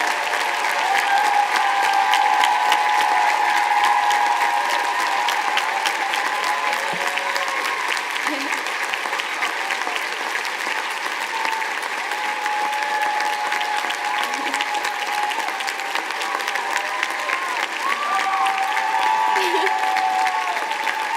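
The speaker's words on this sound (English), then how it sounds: "have the audience give them a round of applause" A commencement audience gives sustained applause for first-generation students standing at a college graduation ceremony, dense even clapping filling a large space without a break for over twenty seconds.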